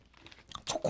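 Close crunching bites into a small Choco Nara chocolate cookie, a few soft crackles followed by two louder, sharper crunch bursts, with no talking.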